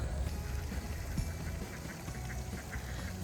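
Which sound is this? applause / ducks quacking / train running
ducks quacking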